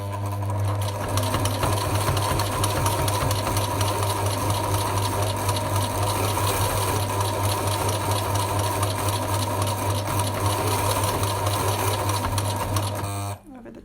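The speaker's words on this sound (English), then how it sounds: "Sewing machine on, needle dropped," A sewing machine runs continuously at a fast, even pace while stitching fabric for a mask, its motor humming under a rapid mechanical stitching rattle, close and loud, stopping at the end.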